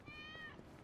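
A cat meows once in the video game Yakuza: Like a Dragon, a single fairly quiet drawn-out tonal meow that fades before the end.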